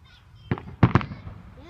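Backyard fireworks pop in a few sharp bursts, three loud cracks close together near the middle of the short stretch, with people chatting faintly around them.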